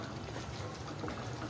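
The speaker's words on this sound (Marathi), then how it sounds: "आता ह्याला चांगली उकळी आलेली आहे बघा." Dhaba-style egg masala gravy boils in a pan, giving a steady, soft bubbling and simmering that fills the short stretch without talk.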